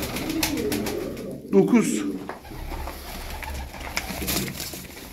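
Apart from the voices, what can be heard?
pigeons cooing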